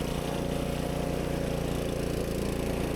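A DR Pro 26 walk-behind mower, a 14.5-horsepower model, runs steadily and loud while cutting grass, its engine drone continuous and close throughout.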